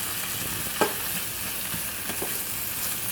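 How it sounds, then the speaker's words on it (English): Spinach sautéing in a pan, a soft, even sizzle with a few faint taps of stirring, close and steady with no voices. "after we're done sauteing our spinach"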